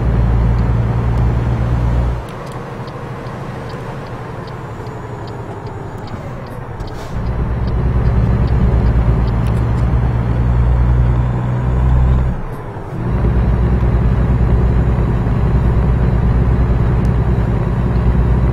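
A damaged Peterbilt truck engine runs steadily in American Truck Simulator, a deep continuous drone that dips briefly twice before resuming at full loudness.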